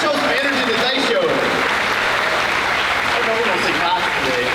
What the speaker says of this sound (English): we're going to give a round of applause one more time